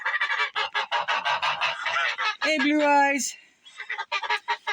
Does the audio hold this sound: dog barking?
no